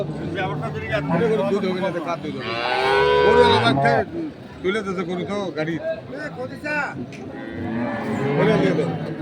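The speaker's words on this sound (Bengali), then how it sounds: "আজকে আমবাড়িহাটের যে দুধের গাভী গরুগুলো রয়েছে সেই গরুগুলোকে এই পাশে আমরা দেখছি" Dairy cows moo loudly and repeatedly at the Ambari cattle market in Dinajpur, with one long, strong low from about the third second. Steady crowd chatter and voices from the market run underneath throughout.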